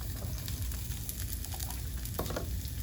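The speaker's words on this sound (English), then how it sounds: "And now we'll get the pan hot again, and a little bit more oil. You can add the onions." Red onions sizzle and crackle in a hot, freshly oiled pan, a steady close frying hiss with small pops and a brief stir partway through.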